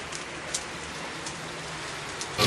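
Steady rain pours down outdoors in Florida, a dense even hiss of drops on surfaces with a few brief louder spatters and a heavier burst at the very end.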